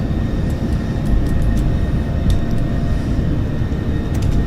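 Boeing 737-600 jet on its takeoff roll and rotation, a loud, steady, broadband engine roar heard from inside the cabin, with faint rattles over it.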